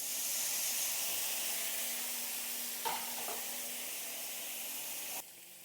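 Water poured into koi fish curry in a hot pan, a loud continuous hiss and sizzle with steam, a brief clink midway, then the sizzle suddenly dropping off near the end.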